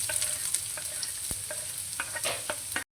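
Onions, garlic and carrots stir-frying in a pan for a carrot and egg dish, a close, steady sizzle broken by several spatula scrapes and taps against the pan.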